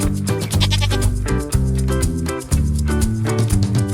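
A goat bleats repeatedly, loud and near, in a run of wavering, nasal cries with a few short breaks between them.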